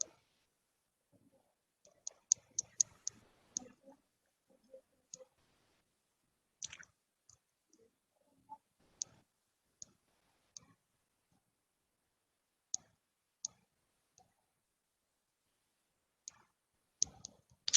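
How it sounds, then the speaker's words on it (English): Numbers are typed on a computer keyboard in scattered bursts of light clicks separated by pauses, faint and close. "Keep typing."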